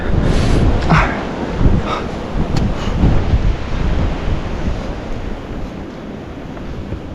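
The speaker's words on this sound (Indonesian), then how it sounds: "Anginnya mengerikan." Strong wind roars and buffets the microphone along a mountain summit trail near a transmitter on Merbabu, loud and gusting in waves throughout with no clear speech.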